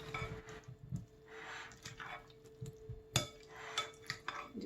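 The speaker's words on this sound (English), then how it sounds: "Just mix it all up till it looks good to you" Potato salad is mixed in a bowl with soft, irregular scrapes and occasional clinks of a utensil, close and fairly quiet, with one sharper knock partway through.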